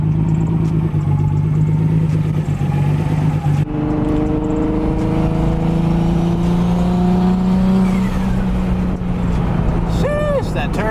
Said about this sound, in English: Sheesh, that turbo though, sounded mighty fine.